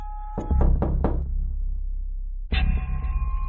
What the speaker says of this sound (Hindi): गुल्ली एक बार फिर से दरवाजा खटखटाता है